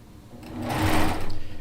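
A sewing machine joins 5-inch fabric squares into a quilt row, stitching in a short burst that builds from quiet to a steady, close whir with no talking.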